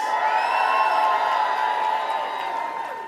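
A large convention crowd cheers and whoops in a big hall, a loud sustained swell of voices that fades slightly toward the end, with no clear speech on top.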